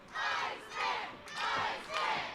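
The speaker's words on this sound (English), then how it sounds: "This Uniontown crowd behind Johnson." A wrestling crowd in Uniontown chants for Johnson in four rhythmic swells, loud and roaring in unison, with no other sound between the chants.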